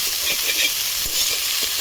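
Chopped chilies and coriander sizzle steadily in a hot frying pan as they are stirred, a dense continuous hiss with faint scraping, close and alone.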